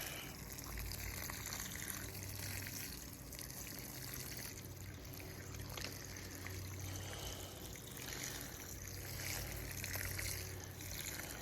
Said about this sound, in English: So now I'm going to water it.